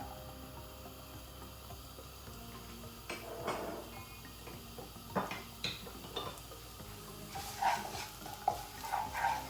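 Chopped ginger, garlic and onion are stirred in a pan of hot oil for spicy paneer fried rice, giving a soft, steady sizzle with scattered scrapes and clinks of a spoon against the pan.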